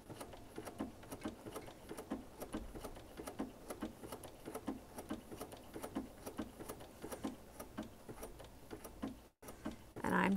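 A sewing machine stitches green applique onto a quilt, its needle tapping in a steady rapid rhythm close by, with a brief gap near the end before a louder burst.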